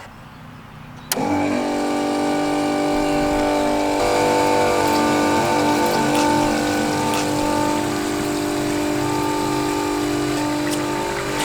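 An RV macerator pump switches on abruptly and hums steadily while black tank waste flows out through its hose, a continuous close mechanical whine with a liquid rush underneath.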